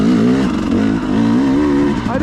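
A KTM 300XC-W carbureted two-stroke dirt bike engine pulls steadily at low revs while climbing a steep hill, a loud, continuous wavering drone that rises and dips slightly without high-rpm screaming.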